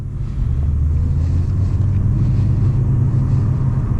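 Mercedes CLS 55 AMG with a 550 hp engine revving hard near the red line, a loud, steady low rumble that rises briefly at the start and then holds continuously, mixed with wind noise.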